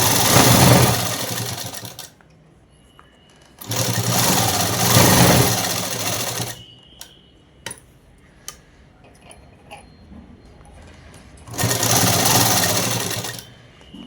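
A home sewing machine runs straight stitches on a man's shirt in three loud close bursts of a couple of seconds each, separated by quiet pauses with a few small clicks.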